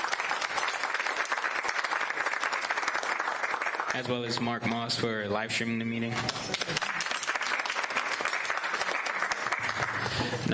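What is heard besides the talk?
audience applause at board meeting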